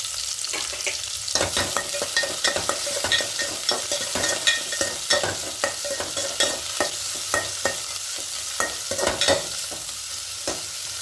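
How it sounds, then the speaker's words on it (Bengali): Paneer pulao with carrots and beans is stirred in a frying pan, the spatula scraping and tapping in a quick, steady rhythm over a soft background sizzle, close up and without speech. "দিয়ে একটু হালকা নাড়াচাড়া করে নেব"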